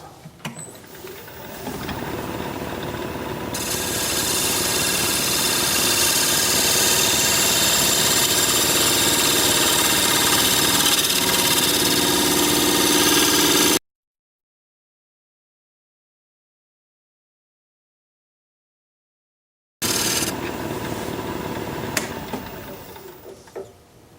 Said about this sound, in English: I'm gonna smooth up this side, maybe taper it in here a little bit